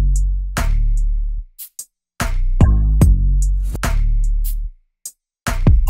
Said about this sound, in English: So I've got this short 808 that sounds like this.